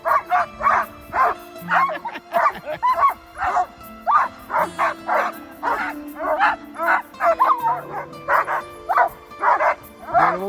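A dog barks and whimpers outdoors during a motorcycle trip through Argentine Patagonia, giving a long run of quick, evenly spaced yips and barks close by.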